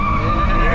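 Nissan Altima braking hard in a test run, tires skidding and squealing in one sustained screech close and loud over engine rumble, with a voice mixed in.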